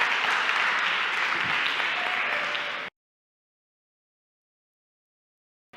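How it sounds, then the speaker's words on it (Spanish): An audience at a conference talk bursts into steady applause for about three seconds, then it stops dead into silence. "le damos un fuerte aplauso"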